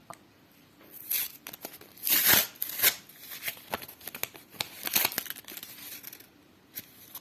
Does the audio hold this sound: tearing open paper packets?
yes